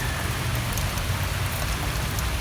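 Steady rain falling outdoors in rural Bicol, a dense, even hiss of drops on surfaces with a low rumble underneath, continuous and fairly loud throughout with no talking.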